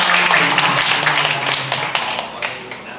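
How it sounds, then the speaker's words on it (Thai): A small group in a Thai training workshop claps for their group leader, steady dense clapping that thins into a few scattered claps near the end, fairly close in a room. "พวกเราปรบมือให้หัวหน้ากลุ่มด้วยนะคะ"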